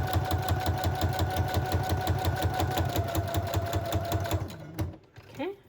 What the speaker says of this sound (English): I'm going to stay over here at this sewing machine